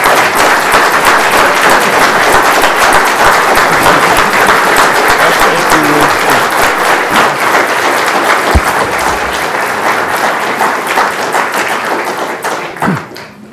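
A keynote audience on its feet gives loud, sustained standing applause: dense clapping from many hands fills the room for over ten seconds, then thins and fades near the end.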